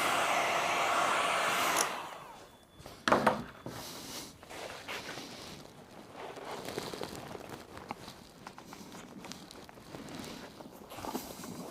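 A heat gun blows hot air onto the upholstery of a hairdressing salon chair arm, a loud steady whooshing hiss for about two seconds that cuts off, followed by quieter handling clatter and rustling of the chair.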